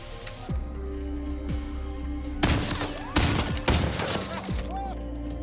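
Film shooting demonstration with several sharp gunshots cracking out loud and close, each followed by a short ringing decay, over a low background hum.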